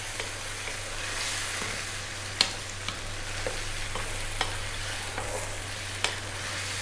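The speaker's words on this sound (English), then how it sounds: "we're going to drop in that tomato. Canned tomato, like I say, that was a whole plum tomato. Crushed it with my hand." Crushed canned plum tomato dropped into a hot pan, giving a steady, loud sizzle and frying hiss with a few sharp pops and ticks, and no talking.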